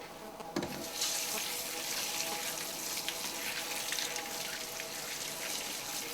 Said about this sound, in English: if we wash it with water, it not only helps get all that straw out of there